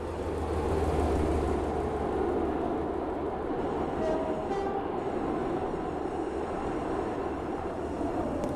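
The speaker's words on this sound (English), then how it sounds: "The train now approaching platform 1 terminates here." A train in the Stepford County Railway game rolls into a station platform, a steady low rumble of wheels and motor held at an even level throughout, with faint brief tones partway through.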